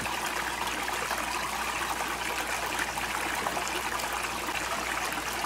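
Water bubbling up and flowing over the top of a box, a steady close rushing trickle that holds an even level throughout without pause.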